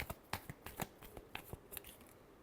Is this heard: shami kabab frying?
no